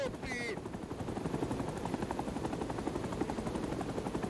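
Helicopter in the Vietnam War video game Rising Storm 2: Vietnam, a steady rapid rotor thump throughout, mixed with bursts of gunfire and brief voices.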